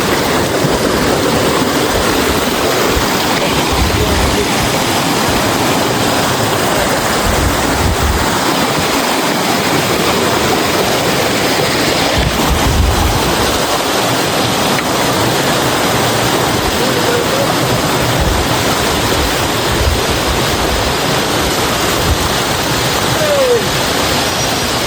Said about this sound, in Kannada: ಫೈನಲಿ ಒಂದು ನಮ್ಮ ಫಾಲ್ಸ್ ತಗೊಂಡಿದ್ವಿ